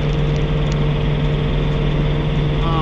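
A John Deere 3039R compact tractor engine heard from inside the cab while raking hay, a loud, steady droning hum with a constant low tone, unbroken and close.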